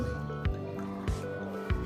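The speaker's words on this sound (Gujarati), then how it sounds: "જોજો પરપોટા નીકળશે, બરાબર? એ હવા બહાર આવી ગઈ અને પાણી જતું રહ્યું અંદર" Air bubbling up from a container pushed under water in a classroom science activity gives three distinct gurgling glugs at steady intervals, close and fairly clear.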